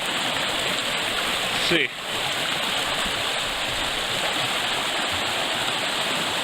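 A mountain brook in Baxter State Park, swollen by recent rain, rushes steadily and loudly throughout a stream crossing, with a brief spoken remark near the start.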